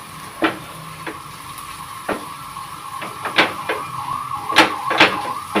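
Mixed vegetables for an instant pickle sauté in oil with mustard powder, giving a steady low sizzle broken by sharp, irregular scrapes and taps of a spoon stirring the pan, growing busier toward the end.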